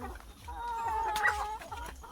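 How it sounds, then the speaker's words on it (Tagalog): Aseel chickens cluck softly nearby, a few hens calling over a low steady background hum. "So, naka vitamins po yan. Mga manok natin."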